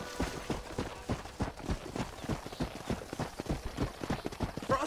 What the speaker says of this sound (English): Oh, it's a horse wrangling mission.